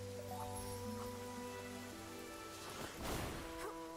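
Steady rain falls on an island in a video game, a continuous hiss of drops with a soft background music tone beneath it and a slightly louder splash near the end.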